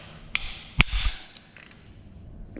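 Ratchet wrench on a bolt of a supercharged small block Ford 302 (5.0) engine during teardown: a couple of sharp metallic clacks and a brief grinding rasp, close, followed by quiet shop ambience.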